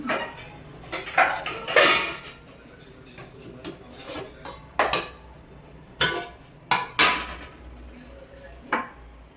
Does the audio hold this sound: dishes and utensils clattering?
yes